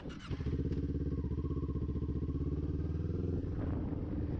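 Kawasaki Ninja 400 motorcycle engine revving steadily and loudly up close during a staggered wheelie, its pulsing exhaust note held high throughout.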